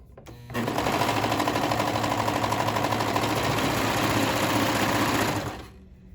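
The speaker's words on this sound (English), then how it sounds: "So now I'm doing that crotch seam." A sewing machine runs steadily, stitching the crotch seam of a romper with a dense, fast mechanical whir that starts abruptly, holds level for about five seconds, then winds down. No one speaks.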